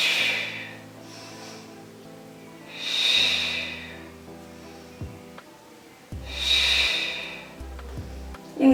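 Slow, deep breaths in and out during a floor exercise workout, with several long hissing exhalations rising and fading over a low hum of background music, no talking.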